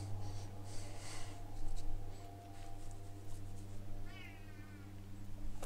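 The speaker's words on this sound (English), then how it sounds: "Calm down, cat." A house cat meows near the microphone, a drawn-out wavering cry near the end over a steady electrical hum and faint clicking, with no voices.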